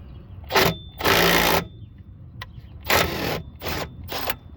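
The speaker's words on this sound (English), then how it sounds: "remove the bolt. It is a 17 millimeter. Using my right angle impact." A right-angle impact wrench works on a 17 mm bolt during front-end suspension work on a car, firing in several loud bursts of differing length separated by short quiet gaps.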